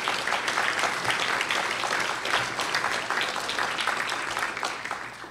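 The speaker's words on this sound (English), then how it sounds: "I would like to thank the people from Greater New York Hospitals for that round of applause." A room full of people from a hospital association applauds loudly and continuously, the dense clapping fading slightly toward the end.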